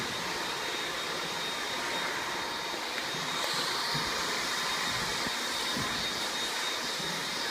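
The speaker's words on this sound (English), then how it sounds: "doing some vacuuming of the dust bunnies." A vacuum cleaner pulls up dust in a gym with the mats stacked away, a loud, steady whine and roar that holds evenly throughout with small bumps, no voices.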